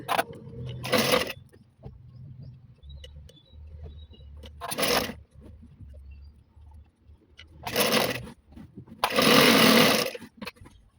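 Sewing machine stitching dress pants, with four loud bursts of rapid mechanical whirring up close. Quiet handling of fabric fills the gaps between runs.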